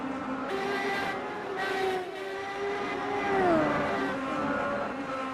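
Race car engines rumble on board the number 65 car of Eric Davis at Watkins Glen during a live race, a steady close drone with rising and falling revs and gear shifts.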